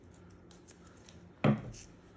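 Scissors snip thread in a single sharp, close cut after faint handling clicks, followed by a brief rustle, in a quiet room without talking.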